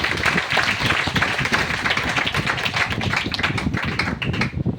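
An audience at a branch meeting in Patna claps together in a dense, continuous burst of applause, near and loud, sustained for several seconds before starting to thin out at the end.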